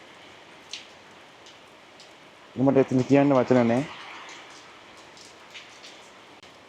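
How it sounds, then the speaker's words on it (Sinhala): Rain falls steadily on a roof, a soft continuous patter and hiss throughout, with a person speaking briefly in the middle. "දැන් මේ වැස්ස තියෙන විට මේ වහල උට්ට වැස්ස වැටෙනකොට ඇහෙන සද්දය"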